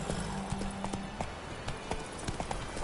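Horse hooves clip-clop steadily in the video game The Witcher 3, a close, even trot with occasional louder strikes over a low ambient bed, no talking.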